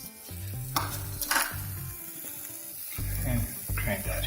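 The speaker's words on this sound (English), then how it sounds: "we're just going to saute some onions here to put into the stuffing" Chopped onions sautéing in olive oil in a pan, a soft steady sizzle with stirring scrapes, accompanied by a speaking voice.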